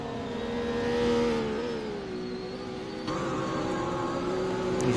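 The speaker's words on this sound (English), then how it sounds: "You just hear her car getting closer and closer and closer." A GT race car at the Augusta Raceway circuit drones loudly and continuously, its engine note holding a steady whine with a slight swell near the start and a lift in level toward the end.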